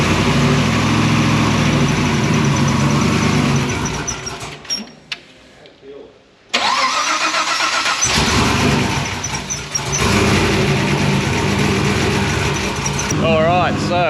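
A boosted iron-block LS engine in a bagged panel van is cranked and fired, a loud sustained roar that cuts out abruptly, falls silent for a moment, then restarts and runs on loudly.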